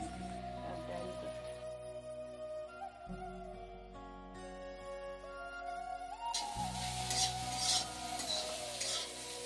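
Okra frying in a pan and being stirred, a soft sizzle and light utensil scraping heard faintly under music, growing brighter near the end.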